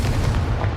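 A Confringo blasting spell explodes in Hogwarts Legacy, a loud, close, booming burst with heavy low rumble, brief and alone.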